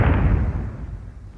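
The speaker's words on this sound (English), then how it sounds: "we're shown a static image of the ship exploding" A spaceship explodes in a Doctor Who broadcast: one heavy, rumbling blast that hits at once, then fades away over a second or so.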